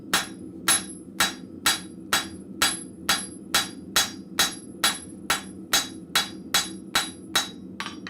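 A hammer flattens steel plate on the near corner of an anvil in a blacksmith shop, striking about sixteen evenly spaced, ringing blows, each with a bright metallic ping over a low hum.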